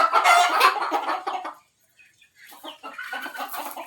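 Chickens kept as stock for sale on a small poultry farm cluck and call loudly and close, a dense burst of fowl sounds that drops to near silence briefly before the clucking resumes.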